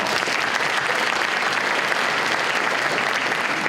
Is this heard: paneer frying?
no